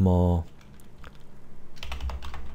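Keystrokes on a computer keyboard while a file name is entered in a code editor, a quick run of light clicks after a brief tone at the start, close and moderately loud.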